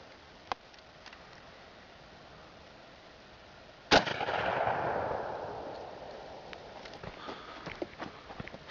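Shotgun fired once with 12-pellet double-aught buckshot, a single sharp blast after a faint click, followed by a long rumbling decay outdoors and scattered small knocks.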